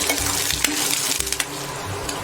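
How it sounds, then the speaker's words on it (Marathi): Curry leaves frying in a pan as they are stirred, a continuous close sizzle and crackle with scraping strokes of the spoon, no talking. "आता यामध्ये बघा कढीपत्त्याची 4-5 पानं घालून घेऊया आणि याला व्यवस्थित असं मिक्स करून घेऊया."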